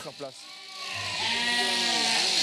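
A sheep bleats during shearing in the Scottish Highlands, one drawn-out, wavering cry rising in strength at close range, just after a brief burst of voice.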